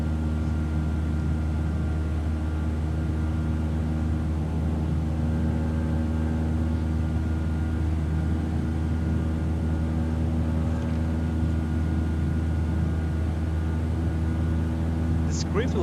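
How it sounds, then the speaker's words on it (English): Steady droning engine hum from an airplane taking off in a flight simulator, with constant tonal harmonics, a low mechanical roar that holds evenly throughout without rising, fairly loud and close. "Now the plane should take off."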